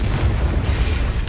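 A Confringo blasting spell bursts in Hogwarts Legacy as a loud, close, rumbling explosion that fills the whole brief moment with heavy low booming.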